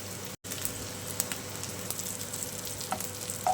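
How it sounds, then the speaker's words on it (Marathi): Chicken cutlets shallow frying in oil without breadcrumbs, a soft continuous sizzle and crackle close by with a few faint clicks, no talking. "शालो फ्राय करून घेणार आहोत"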